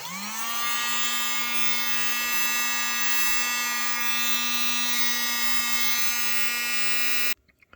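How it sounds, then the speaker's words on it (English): USB mini desk vacuum cleaning up bread crumbs, running as a steady, loud, high-pitched electric whine that rises at start-up, holds evenly for about seven seconds, then cuts off abruptly. "Now let's see if this machine can clean it up effectively."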